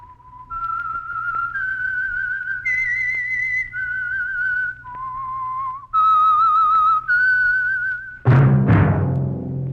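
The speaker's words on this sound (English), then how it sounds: "That whistle is your signal for the Signal Oil Program, The Whistler." The eerie whistled theme of the old-time radio drama The Whistler plays as a string of held, sliding notes, then cuts to a sudden loud orchestral crash at the end.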